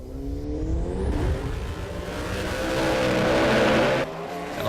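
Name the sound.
SR20-powered altered and turbo roadster drag racing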